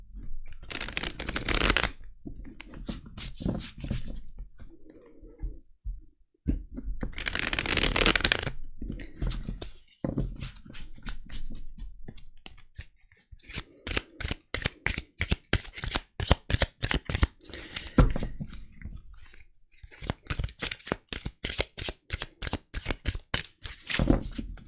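Pink oracle cards shuffled by hand in repeated bursts, first riffle-like rushes and then a long run of quick, crisp flicking strokes, close and fairly loud with no talking.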